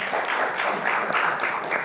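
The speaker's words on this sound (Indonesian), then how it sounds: "tepuk tangan untuk Bang Budiman" Audience applause fills a talk-show studio in Indonesia after a guest named Budiman is introduced, a steady dense clatter of many hands clapping throughout, loud and continuous with no voices over it.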